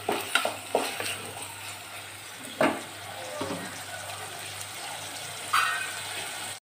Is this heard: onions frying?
yes